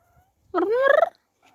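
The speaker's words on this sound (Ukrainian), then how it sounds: "Чого ти шипиш на Кузю?" A cat vocalises close by, in one short, loud, tonal call about half a second long with a rising, wavering pitch, alone in an otherwise quiet indoor room where a dog lies nearby.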